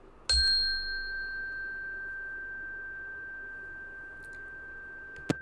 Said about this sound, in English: if I ask you to pay attention to the sound of this bell